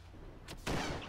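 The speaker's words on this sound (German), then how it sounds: "Oh, Schuss." Gunshot in the DayZ video game, heard as a single loud, sharp report that bursts in suddenly, close by, and rings on briefly over a low, steady background rumble.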